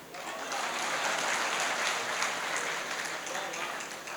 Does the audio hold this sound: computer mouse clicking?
no